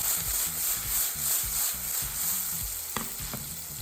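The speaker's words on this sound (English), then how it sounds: "And give it a nice toss together." Golden mushrooms, seasoned with salt and black pepper, sizzle steadily in a frying pan while being tossed and stirred, with rhythmic low scraping pulses and a couple of sharp clacks near the end.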